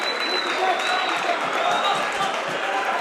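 A dense crowd roars and applauds at a high school boys basketball game, East Brunswick against St. Joseph, in a gym, loud and sustained throughout, with a commentator's voice over it and a whistle-like tone drifting above.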